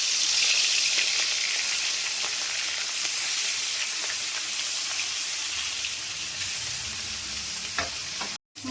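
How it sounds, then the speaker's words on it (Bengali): Rohu fish pieces, salted and coated with turmeric, fry in oil in a wok, giving a steady, close hiss and crackle that holds throughout with no voices and cuts out briefly just before the end. "এবার মাছগুলো ভেজে নেব।"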